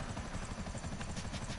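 A helicopter flies in GTA 5, its rotor producing a steady, loud, throbbing chop with continuous engine roar.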